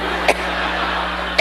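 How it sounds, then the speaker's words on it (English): Two short, loud coughs, one near the start and one near the end, cut through a steady broadcast background hum; a woman's coughing spell during a televised speech. "new video shows an interesting history of these the coughing spells"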